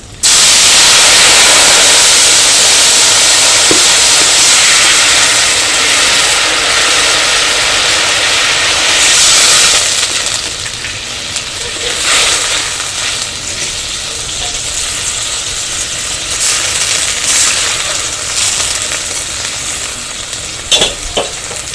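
Water hits hot oil in a pan for a mustard hilsa curry, setting off a loud, continuous frying sizzle that starts abruptly and eases slightly while it keeps crackling steadily.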